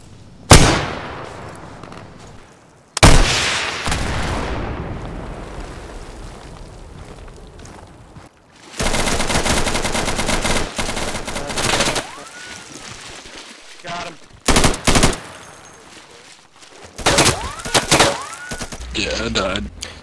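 Gunfire in the Insurgency 2 PC shooter game: sharp, loud shots and bursts going off at irregular intervals, with some rapid volleys and ringing tails, close up and dense.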